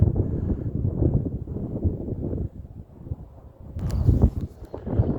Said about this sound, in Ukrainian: О, який вітер.